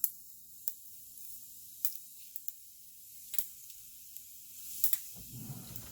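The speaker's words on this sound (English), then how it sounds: "Now the mustard seeds are spluttering." Mustard seeds splutter in hot oil in a pan, with scattered sharp pops and crackles over a quiet sizzle, followed by a louder burst of frying near the end.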